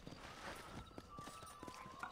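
Horse hooves clip-clopping at a fast pace in Red Dead Redemption, a steady run of soft thuds under a game soundtrack, fairly low in the mix.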